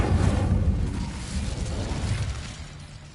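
A burst of flame from the Incendio fire spell in Hogwarts Legacy on PS5 whooshes out loud and broad, then fades into a lingering, crackling rumble over a few seconds.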